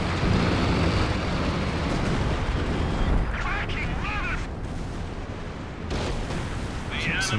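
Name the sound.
howitzer artillery fire in video game Company of Heroes 2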